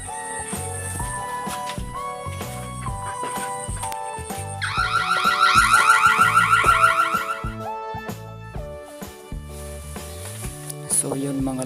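Phone anti-intruder password alarm going off, a loud electronic siren with rising and falling warbling tones and rapid beeping patterns that swell midway, then continue as steady synthetic tones.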